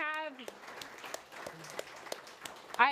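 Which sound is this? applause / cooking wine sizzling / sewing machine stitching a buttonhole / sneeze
applause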